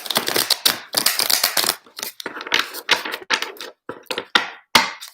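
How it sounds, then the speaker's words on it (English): Crisp, rapid papery riffling and clicking of tarot cards being shuffled close up, coming in quick bursts with brief pauses between. "So I'll do one more shuffle."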